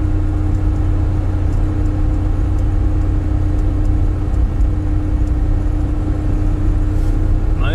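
A LADA 4x4 Niva cruises in third gear at about 3000 rpm, its steady engine drone and road rumble loud and continuous inside the cabin with a constant low hum throughout.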